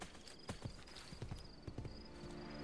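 A horse summoned in Assassin's Creed Brotherhood trots up with steady, fairly close hoof clip-clops on hard ground, set against a constant game ambience.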